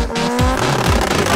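A drag racing car roars loudly down a dragstrip under Bad Ground conditions, its engine tone climbing steadily over a sustained, dense burst of tire noise, close and continuous throughout.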